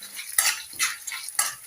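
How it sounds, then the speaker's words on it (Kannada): Spices tempering in hot oil for lemon rice, Brahmin-style without garlic, with sharp bursts of crackling sputter in three loud clusters, alongside metal spoon stirring against the pan. "ನೋಡಿ ಒಗ್ಗರಣೆ ಆಗ್ತಾ ಇದೆ"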